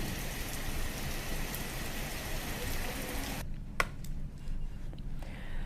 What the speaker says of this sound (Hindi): ये 8 तस्वीरें आप देख रहे हैं, जिनमें देखिए कि आप अब बारिश हो रही है